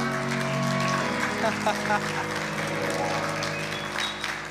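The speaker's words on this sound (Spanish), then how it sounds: "Dale un aplauso al Señor" Congregation in a church applauding the Lord, a broad wash of clapping mixed with a steady musical drone, voices talking over it throughout.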